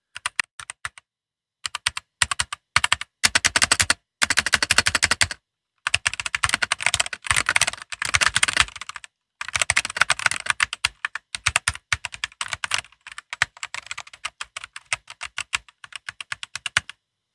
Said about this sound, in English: It has that louder clacky feel noise from the keycaps being pushed down and the key switches.